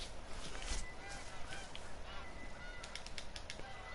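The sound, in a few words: pheasant call in video game theHunter: Call of the Wild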